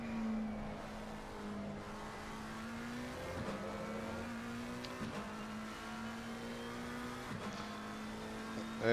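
A McLaren race car engine in a racing video game at Paul Ricard holds a steady, high drone through a long corner, with brief shifts in pitch, at moderate level.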